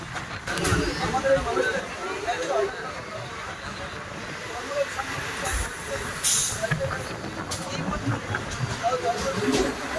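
A local train on the Sealdah to Diamond Harbour line rolls along the main line with a steady, continuous rumble and rattle, broken by a few brief bright hisses and clanks.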